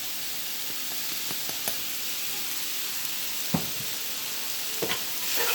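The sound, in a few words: mixing cheddar and provolone into sizzling steak, peppers and onion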